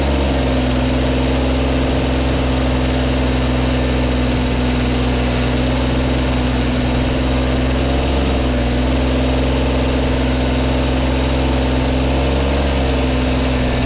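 A Kubota BX compact tractor engine runs loud and close while plowing snow with a push box, a steady continuous drone with no break and no voices.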